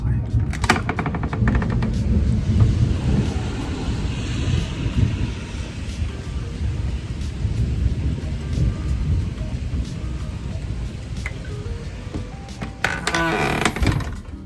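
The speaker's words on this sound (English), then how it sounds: "Like the skies just opened up, the thunder" Heavy rain pours steadily with deep rumbles of thunder, strongest at the start and near the end, buffeted by some wind on the microphone.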